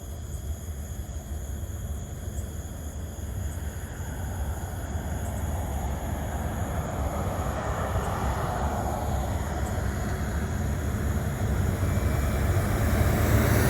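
A Loram rail grinder train approaches on the tracks, a broad, steady rumble that grows slowly louder from a distance over about fourteen seconds, with no talking.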